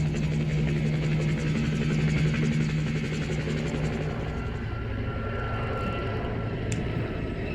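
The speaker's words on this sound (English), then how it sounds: "Helicopters approaching." Helicopters approaching during a flight toward Azovstal early in the war, heard as a loud, steady rotor and engine drone with a low throbbing hum that holds throughout, with no talking.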